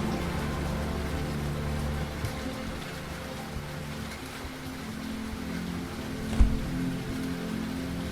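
Pouring rain in the game Lorelai, a steady wash of drops falling alongside a low rumbling ambience, continuous and even with one brief soft knock near the end.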